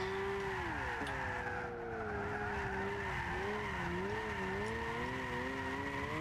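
Tires skid and squeal steadily on a Nissan Silvia S14 with a turbo drift build as it drifts in Gran Turismo 6, the wavering screech riding over a loud, continuous engine drone for the whole stretch.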